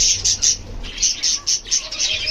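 Pet birds in a home aviary chirp and tweet in repeated bright bursts, fairly close and steady over a low background hum, with no talking.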